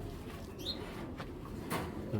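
A racing pigeon gives soft, close coos over a low background murmur, a few brief throaty calls spread across a short stretch.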